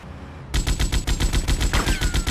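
Rapid bursts of automatic gunfire from GTA: Vice City Definitive Edition, a yacht-defense shootout, start abruptly after a brief quiet lead-in and keep hammering in a steady loud rhythm, with a high whine running over the shots.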